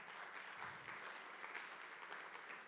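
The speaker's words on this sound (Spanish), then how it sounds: "Dale un aplauso al Señor por eso." Steady, dense applause from a church congregation, faint and distant, filling the whole stretch without pause.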